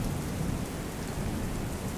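Heavy, continuous rain pours down steadily during flooding around Suigam, a dense unbroken hiss with a low rumble beneath, no voices.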